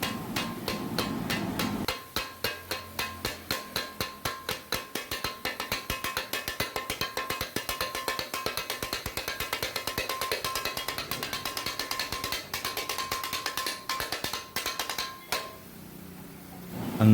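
Chicken kothu parotta being chopped on a griddle at a Kottayam street food stall, sharp metal blade strikes ringing out in a fast, steady rhythm, loud and close, with no talking.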